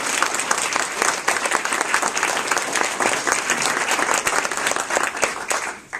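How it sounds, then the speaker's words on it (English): A school audience breaks into sustained applause at an annual update meeting, dense clapping from many hands that holds steady for several seconds before tapering off at the end. "I really would hope you would join me in applauding Karen"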